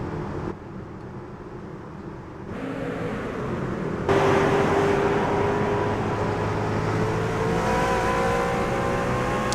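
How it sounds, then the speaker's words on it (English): Racing trucks run at Chicagoland under green flag, their engines droning in a steady, rising roar that swells sharply partway through and holds loud and continuous to the end, with no talk. "They are going to go green flag racing this time."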